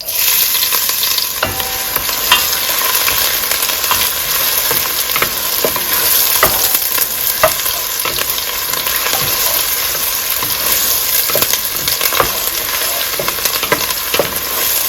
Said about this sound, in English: Over a medium high heat, I'm gonna add about 1/4 cup of oil. Now I'm gonna add 1 onion chopped.